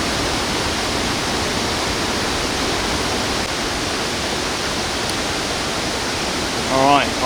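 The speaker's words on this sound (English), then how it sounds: "I'm at Kiat Oak Waterfall on the Tayicsua Waterfall Trail in southern Laos" Kiat Oak Waterfall on the Tayicsua Waterfall Trail, Bolaven Plateau in southern Laos, pours in a steady, dense broadband roar heard from a rocky plateau, unbroken throughout, with a brief faint voice-like sound near the end.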